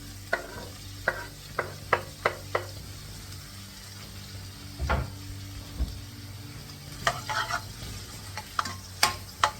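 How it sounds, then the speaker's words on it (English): Onions, peppers and green chilies fry in hot oil for a chicken bhuna while a spoon scrapes and knocks against the pan in sharp, irregular clicks over a low, steady sizzle. "now the oil is heated up, you can add your onions and peppers. And your green chilies."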